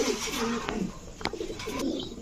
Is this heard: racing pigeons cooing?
yes